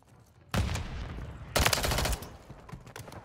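Rapid bursts of Striker 9 gunfire in Modern Warfare 3, two loud fast strings of shots about a second apart with a brief lull between, close and sharp, no talk.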